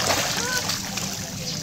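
Someone wades through deep high-tide floodwater in a flooded town in Hagonoy, Bulacan, with continuous sloshing and splashing under nearby voices talking.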